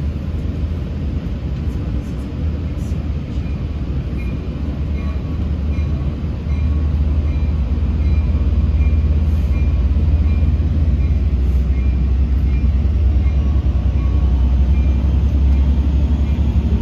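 Long Island Rail Road train pulling in from Jamaica, a loud, steady low rumble of rolling cars that grows heavier partway through, with faint rail clatter and no talking.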